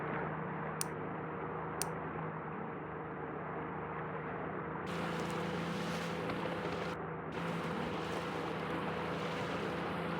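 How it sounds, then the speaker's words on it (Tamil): A speedboat in the Melon Sandbox video game runs on water with a steady, droning motor hum that grows brighter and louder midway, with no talking. "இது வந்து ரொம்பவே வந்து ஒரு வாட்டர்லயே ஸ்பீடா போற ஒரு வெஹிக்கிள்"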